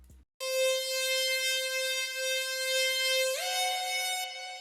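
A synth melody in an FL Studio type beat, played without a tremolo effect: a bright, buzzy sustained lead tone holding one pitch, then stepping up to a higher note, loud and alone after a brief blip at the start.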